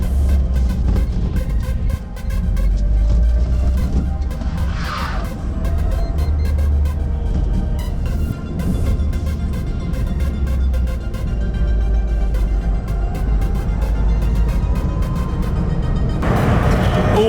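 A Renault Twizy electric micro car driving through a busy town, with a steady low rumble and hum from the cabin and road, broken by occasional clicks and rattles; no talking.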